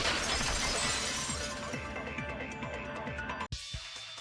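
Glass shatters in a Danganronpa 2: Goodbye Despair class-trial scene, a loud crash that spills into a long tinkling cascade of falling shards, then cuts off abruptly into a brief quieter tail; no voices.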